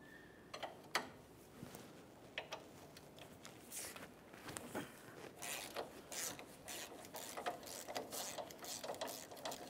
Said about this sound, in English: We'll also be using a 21 millimeter wrench to remove that nut.